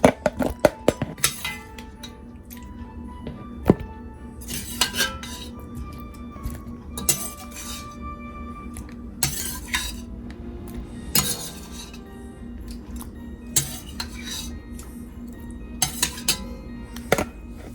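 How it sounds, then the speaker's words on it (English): Metal utensils scrape and clink against a pot as shrimp and sausage are lifted out for Cajun pasta, irregular sharp clatters recurring throughout over a steady low kitchen hum. "Here, I'm removing my shrimp and sausage."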